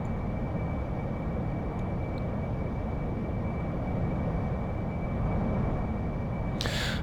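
A Harrier jet powers up for a nighttime takeoff in a flight simulator, giving a steady, loud engine roar with a constant high whine over it and no talk.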